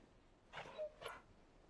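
Torgal, the dog companion in Final Fantasy XVI, gives a soft, brief whimper, two short faint whines close together against quiet game ambience.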